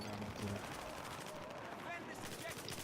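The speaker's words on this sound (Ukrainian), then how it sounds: "Стріляємо і стріляємо." Rapid gunfire from a scar rifle in an online shooter game, dense bursts of shots running almost continuously under voices chatting over the action.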